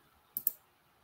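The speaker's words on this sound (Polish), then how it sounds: "Klikam dodaj sprawdzian." Computer mouse clicked twice in quick succession, two sharp close taps against near silence.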